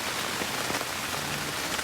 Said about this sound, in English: So hopefully the rain stops tomorrow